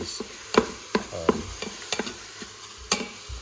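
Pork belly browning in an Instant Pot on the sauté setting, with a spoon scraping and stirring in irregular close knocks over a faint, steady sizzle.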